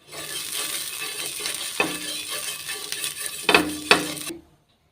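Oil sizzles steadily on a hot griddle while palak thalipeeth is being prepared, a close, continuous frying hiss with a few sharper spatula scrapes and taps near the end before it cuts off.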